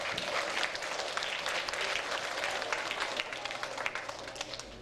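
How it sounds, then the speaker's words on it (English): An audience at a school district music week event applauds steadily throughout, dense clapping filling the room at an even level without any talk over it. "Give him a round of applause."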